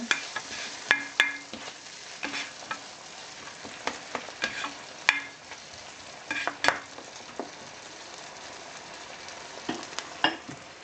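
Vegetables for pinakbet being stirred in a hot pan, the soft sizzle broken by a string of sharp utensil scrapes and taps at an uneven rhythm, close up with no voices.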